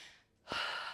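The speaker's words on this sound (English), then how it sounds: "Deep breath in." A single deep breath drawn in sharply during a full-body workout, a close airy gasp after a brief quiet pause, with no talk over it.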